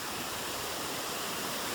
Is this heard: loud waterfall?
yes